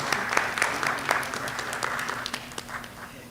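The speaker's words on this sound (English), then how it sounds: "Give them another round of applause." An audience at a school board meeting applauds a state championship high school marching band, with moderately loud, fairly sparse clapping and distinct individual claps standing out over a low steady hum.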